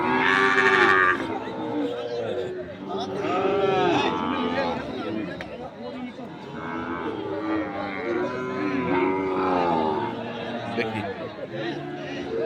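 Cattle, including Sahiwal bulls and calves, moo repeatedly, some long and drawn out, over a busy crowd of voices haggling prices nearby in a noisy open-air cattle market.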